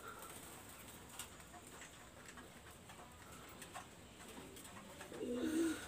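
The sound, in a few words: pigeons cooing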